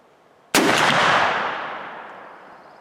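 A single loud muzzleloader shot fired with a Hodgdon FireStar Triple Seven pellet load toward a target at 50 yards, a sharp blast followed by a long, fading rumble with no talk.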